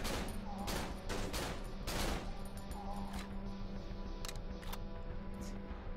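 Automatic gunfire in a video game, a dense continuous spray of rapid shots at moderate distance with sharper single cracks near the end, under a steady hum.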